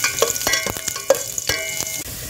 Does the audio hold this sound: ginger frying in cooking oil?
yes